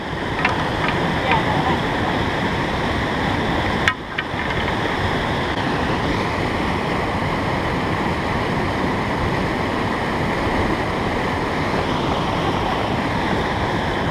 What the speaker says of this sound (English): the water is pretty fast